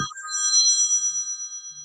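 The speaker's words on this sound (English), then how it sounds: "Whoa, phone call." A phone ringtone rings out for an incoming call, a clear bright electronic melody of sustained tones that plays loud and close throughout the short moment.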